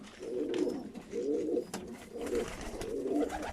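Pigeons coo in a loft where young birds are kept, giving four low, rolling coo phrases in a steady rhythm, close and clear with no talk over them.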